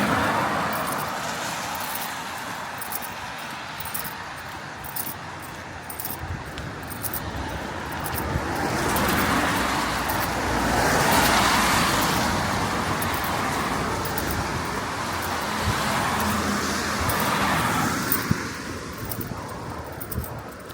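Road traffic on the main A65 passes by, cars swelling and fading in a continuous roar with louder passes midway, heard from the roadside crossing.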